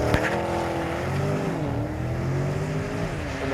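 A Porsche Panamera engine revs during a launch-control start in Sport Plus mode, giving a steady, fairly loud mechanical drone that rises and falls slightly in pitch for a few seconds with no talking.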